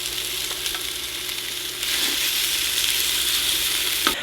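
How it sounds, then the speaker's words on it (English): Breakfast sausage chunks frying over high heat in a nonstick pan, giving a loud, steady sizzle that swells partway through and ends with a brief knock. "I'm going to add in the breakfast sausages straight in."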